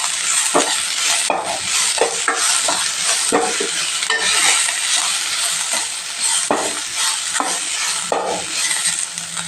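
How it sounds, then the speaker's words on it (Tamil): Onions sauté in a pan over a low flame, a loud close sizzle punctuated by frequent rhythmic scrapes and clinks of a spatula against the metal, no talking. "பச்சை வாசனை போகிற வரைக்கும் நம்ம வதக்கிக்கலாம் இந்த வெங்காயத்தோடு அப்படியே வதக்கிக்கலாம்"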